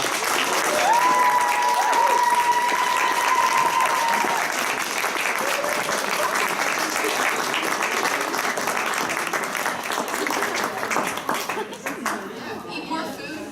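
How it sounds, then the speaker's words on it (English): Applause from an audience at a university ecofeminism panel fills the room, dense steady clapping that holds for several seconds and then thins out as chatter and talk take over. "so we can give them a huge round of applause."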